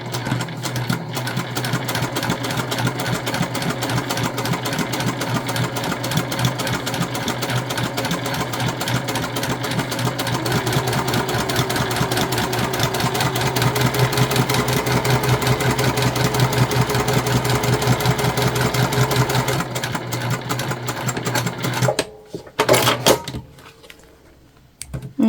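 Sewing machine stitching single rows on fabric, a fast even mechanical chatter running nonstop for about twenty seconds, close and steady, then stopping with a few small clicks and handling sounds.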